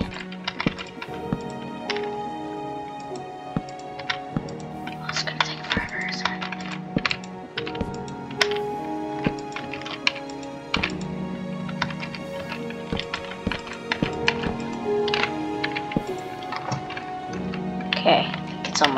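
Loud, clattering keyboard typing goes on continuously, with rapid key taps and heavier thunks, while a person talks over it.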